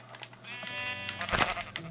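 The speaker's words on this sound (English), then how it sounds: "I need one more piece of wool. Sheep!" A sheep in the Minecraft video game bleats in a short, nasal, wavering cry, with a louder burst near the end, close and clear with no talk over it.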